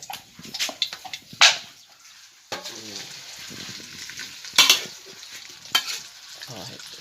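Oil sizzling in a pan while pork cracklings fry, with stirring and scraping, bursts of louder hissing and clatter at a few moments, no speech.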